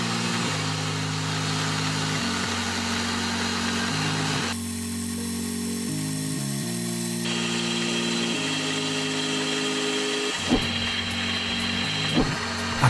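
A milling machine cuts waste stock from a metal dovetail, a steady droning whine with shifting pitch as the cut changes, running continuously up close, with a few clunks near the end; no voices.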